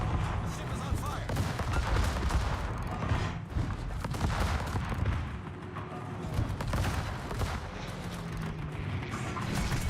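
Warship secondary guns in World of Warships firing in rapid ragged bursts of booms and cracks over a rumbling battle din, with a burning ship nearby and a voice talking at times.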